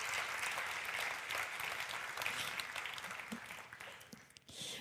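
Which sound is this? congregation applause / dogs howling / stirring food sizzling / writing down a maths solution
congregation applause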